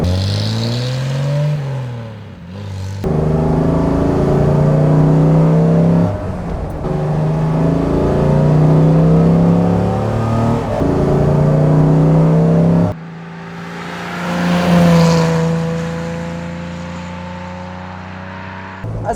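A 1955 Mercedes 300 SL Gullwing drives on a test run, its engine droning loudly and steadily nearby, with the pitch rising and falling through revs and gear changes and a brief dip partway through.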